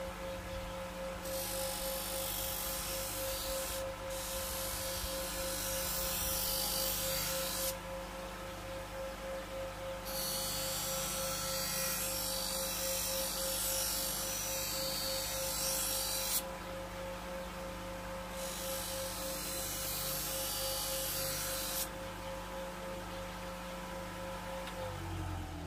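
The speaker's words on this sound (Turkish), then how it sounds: "Şimdi zembil makinenin yapmış olduğu keçede ılağısını alıyoruz." A knife being honed on the felt wheel of a Zembil sharpening machine, a steady whirring motor hum with a constant rubbing hiss that shifts in intensity over the length, no talking.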